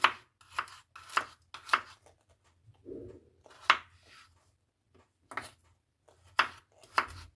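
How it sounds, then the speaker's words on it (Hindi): A knife chops washed red radishes on a board: crisp, close chops come singly and in short runs, with brief pauses between them. "दो यहाँ पे ली है मैंने रेड वाली मूली, इनको भी मैंने अच्छे से धो लिया है। धोने के बाद इनकी भी हम करेंगे कटिंग।"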